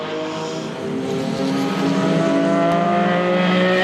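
A classic Ferrari 206 Dino race car passes at the Le Mans Classic 2010, its engine a steady, tonal drone that grows louder and fuller as it nears.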